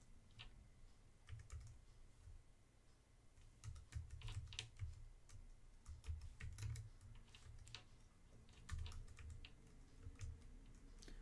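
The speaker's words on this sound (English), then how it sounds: "I'm going to press caps lock to make sure that all the letters I type are capitals." Computer keyboard keys tapped in irregular bursts while a password is typed in, close and moderately loud, with no talking.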